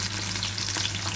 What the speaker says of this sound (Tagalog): Ibalihan natin ang garlic.